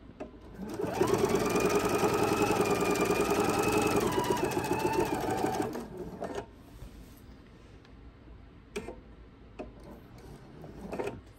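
A sewing machine stitches binding onto a quilt, humming loud and steady for nearly five seconds before stopping, followed by quieter clicks and fabric handling.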